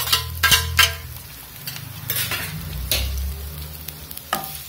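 Three finely chopped onions fry in a pan for egg biryani, with a steady sizzle under repeated loud scraping and clattering stirs, close and without talk.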